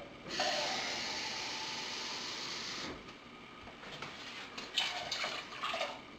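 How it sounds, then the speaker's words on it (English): Two cans of tomato sauce and half a can of water poured into a cooking pot for chili, a steady wet pouring rush that briefly breaks and then resumes in uneven, sloshing bursts, close by. "I'll pour my 2 cans of tomato sauce right into the pot. And then I'll also put half a can of water in there as well."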